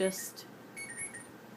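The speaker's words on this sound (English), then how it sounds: "that's my alarm" An alarm clock rings briefly at the start with bright electronic chiming tones, followed by faint intermittent high beeps while a person talks nearby.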